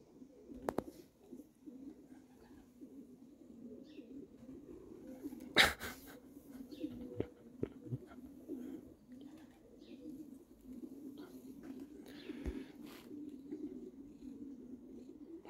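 Pigeons coo softly and repeatedly in a pigeon loft, a low steady murmur with occasional wing flaps and sharp knocks, and a voice heard faintly now and then.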